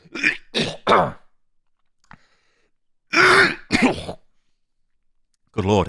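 Harsh throat clearing and coughing from one person close to the microphone, a few rough bursts, then a pause and two more heavy coughs, with a final cough at the end.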